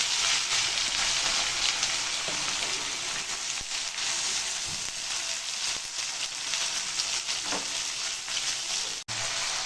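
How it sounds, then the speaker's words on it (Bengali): Three large chopped onions fry in hot oil with a dense, loud, steady crackling sizzle, close up. Occasional faint stirring scrapes cut in, and no voices are heard. "এখন আমি তেলের মধ্যে এই পেঁয়াজটা দিয়ে দেবো"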